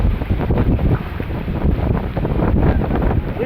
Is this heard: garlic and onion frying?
no